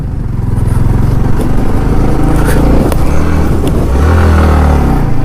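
A Royal Enfield Himalayan motorcycle engine roars and strains loudly throughout, revving unevenly as it labours uphill over rough village off-road ground in Tamil Nadu.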